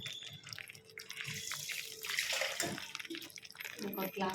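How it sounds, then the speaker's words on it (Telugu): A glass of water poured into a pan of tomato masala curry, a steady splashing, bubbling rush that swells midway and stays close and fairly loud throughout. "సో మనం ఒక గ్లాస్ ఆఫ్ వాటర్ వేసేద్దాము"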